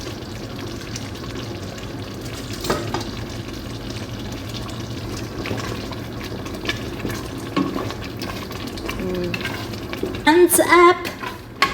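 White beans, drained of their soaking water, cooking in a pan with sauce, a steady sizzle and stirring with occasional scrapes and clinks of a utensil against the pan, close and fairly loud, while a person talks briefly.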